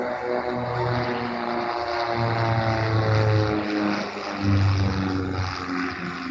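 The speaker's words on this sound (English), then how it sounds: "the Silence Twister itself started out as a world-beating radio-controlled aerobatic machine, simply known as the Twister" Silence Twister aerobatic aircraft at the Bournemouth Airshow 2018, a loud sustained engine drone with shifting propeller tones as it manoeuvres overhead, no voices.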